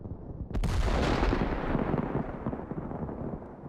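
A single loud, close cannon shot from an armored vehicle on a battlefield, with a sharp crack followed by a long, heavy rumbling roar that slowly fades.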